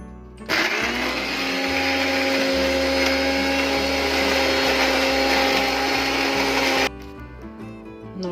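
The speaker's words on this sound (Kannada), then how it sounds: "ಇದನ್ನು ಈಗ ಮಿಕ್ಸಿ ಮಾಡ್ತೀನಿ." A kitchen mixer grinder whirs at high speed, grinding ginger and jaggery for a spicy red chutney; the loud, steady motor hum starts abruptly, holds for about six seconds, then cuts off sharply.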